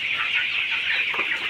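Sonali chickens in a poultry shed housing about two thousand birds make a dense, continuous chorus of clucking, loud and overlapping throughout with no voices.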